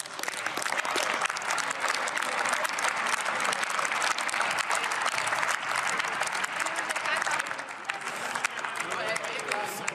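Sustained applause fills a session of the German Bundestag during a debate on affordable, climate-friendly mobility, loud and dense clapping from a large chamber running steadily throughout.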